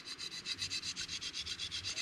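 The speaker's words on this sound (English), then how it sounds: "So I'm slowly taking it back to a traditional Scandi grind." A knife blade being sharpened toward a Scandi grind on a bushcraft chopper, with steady back-and-forth rasping strokes repeating about every quarter second, close and fairly loud with no talk.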